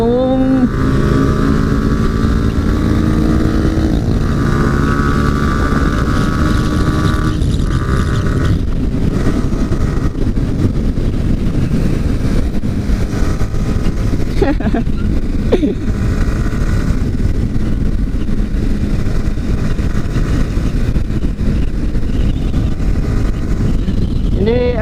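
A motorcycle being ridden home from a Sunday morning group ride, with its engine droning steadily, pitch sweeps that fit gear changes, and wind buffeting the microphone throughout.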